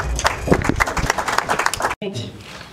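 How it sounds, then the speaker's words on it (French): Applause from an assembly audience after a speech on a proposed emergency-care law, dense clapping with voices mixed in, broken by a brief gap near the end before talk resumes. "Sous vos applaudissements,"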